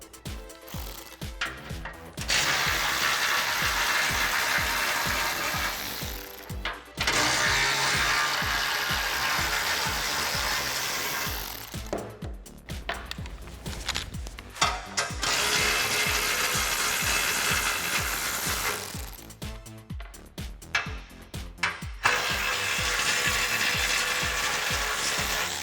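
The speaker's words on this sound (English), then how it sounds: "we're going to use our 10mm socket again to remove these bolts and get these brackets out" A 10mm socket on a ratchet backs out bumper bracket bolts on a 2005-2015 Toyota Tacoma in long, loud runs of rapid clicking. Short pauses and clanks of handling split the runs.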